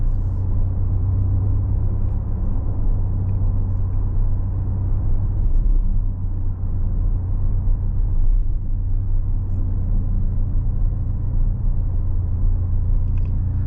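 Inside a 2026 Porsche Cayenne Electric Turbo accelerating hard with push to pass, a loud steady low rumble of road and motor noise builds with a faint whir, and no voices are heard.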